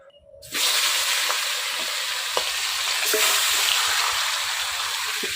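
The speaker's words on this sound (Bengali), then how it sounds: "এই দেখেন মাছের মাথাটা ভাজা হয়েছে কত সুন্দর" Snakehead fish heads seasoned with salt and turmeric frying in hot oil in a wok, starting abruptly with a loud, steady sizzle that holds throughout, with a few faint clinks.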